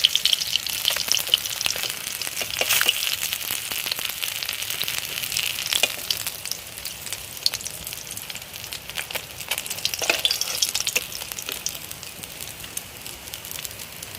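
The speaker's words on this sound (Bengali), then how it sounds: "বাটা মাছটা এখন লাল লাল করে ভেজে নিয়েছি" Bata fish fries in hot oil with a continuous dense crackle and sizzle, moderately loud and steady, with scattered sharper pops and no talking.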